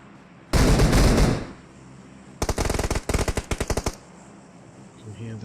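Automatic weapon sprays crack out in rapid bursts during a competitive esports battle royale match: one long dense volley, then several quick staccato strings of shots, fairly loud against quiet game ambience.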